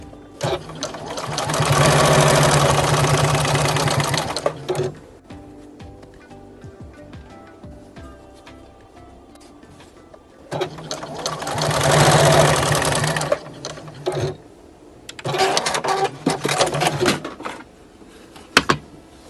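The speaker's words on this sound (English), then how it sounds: "I'm sewing them in order of the pattern" A sewing machine stitching denim patchwork pieces with a quarter-inch seam, running in three steady loud buzzing bursts of a few seconds each, separated by quieter handling of the fabric.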